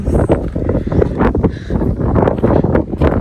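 Steady wind at a lake buffets the microphone, loud and close, a continuous low rumble with gusty swells and no voices.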